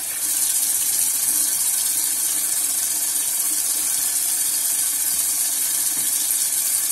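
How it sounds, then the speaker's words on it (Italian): Hot water runs steadily from a tap while preparing to shave, a loud continuous gush and splash that fills the whole stretch without pause. "Acqua calda e pennello caldo."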